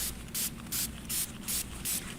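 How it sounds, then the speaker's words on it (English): Quick hissing sprays from a spray bottle of water, repeated at an even, steady rhythm, about six short bursts, close and fairly quiet. "I'm going to use a spray bottle with water and just spray these"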